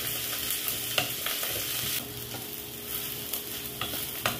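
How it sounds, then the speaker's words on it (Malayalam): Onion, ginger, garlic, green chilli and curry leaves sauté in a hot pan for a fish egg stir fry, a steady soft sizzle broken by a few clicks and scrapes of stirring, close and fairly quiet, with no voices. "ഇഞ്ചി, വെളുത്തുള്ളി, പച്ചമുളക്, കറിവേപ്പില ഇതുകൂടി ചേർത്ത് കൊടുക്കാം. ഇനി എല്ലാം കൂടി നന്നായിട്ടൊന്ന് വഴറ്റിയെടുക്കാം."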